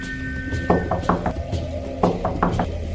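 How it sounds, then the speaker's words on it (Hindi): Knocking on a gate at night, sharp hollow raps in two quick groups of three or four, close and distinct over a faint steady hum. "गेट के खटखटाने की आवाज आती है।"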